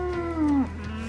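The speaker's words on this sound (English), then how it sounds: "happy cows" Cattle in a freshly opened paddock with a solar electric fence give one close, loud, drawn-out moo that slides downward and trails off, heard alone without talk.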